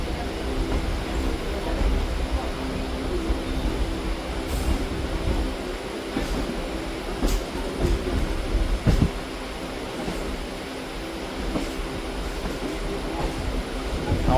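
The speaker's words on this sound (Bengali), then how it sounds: "ট্রেন আমাদের ঢুকছে মাঝেরহাট স্টেশনে।" From on board, a local train rolls into Majherhat station with a loud, steady rumble and a low mechanical drone, with scattered knocks and clunks from the carriage as it slows.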